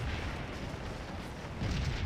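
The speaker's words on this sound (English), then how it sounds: "More canister fire coming down." Cannon canister fire on a Civil War battlefield in Scourge of War, a faint low rumble of distant artillery booms, rolling and muffled, swelling slightly near the end.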